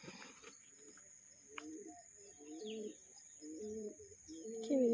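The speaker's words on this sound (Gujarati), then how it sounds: "ઉપર કબૂતર છે, અત્યારમાં ઉઠી ગયા। જો કેવો અવાજ કરે છે।" Pigeons cooing overhead at a resort in Sasan Gir, a series of soft, low, rolling coos repeating in steady phrases, fairly close, over quiet outdoor ambience with a faint insect hum.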